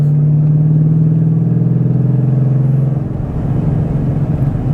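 A Mustang Shelby GT500 rated at 760 hp and 900 Nm roars with a loud, close, deep engine rumble that holds steady, then drops to a lower, rougher idle-like throb partway through.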